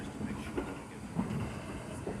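Gwili steam train carriage, a steady low rumble with faint clanking and hiss as passengers board, continuous at moderate level.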